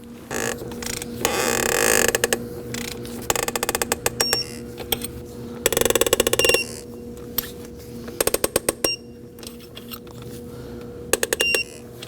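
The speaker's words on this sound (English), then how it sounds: "Now we're gonna go ahead and torque those 4 bolts to 9 foot-pounds" Torque wrench tightening four bolts on a Kia Optima engine, rapid ratcheting bursts repeating in several separate runs, each a loud clicking rattle with quiet pauses between, no one talking.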